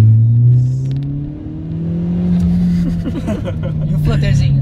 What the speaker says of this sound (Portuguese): esse carro tá com flutter